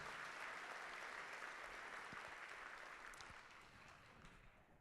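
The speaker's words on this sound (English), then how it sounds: "Round of applause for these bronze medal winners in diorama." An audience at a miniature painting competition awards ceremony applauds bronze medal diorama winners, a steady, faint crowd clapping that fades gradually toward the end.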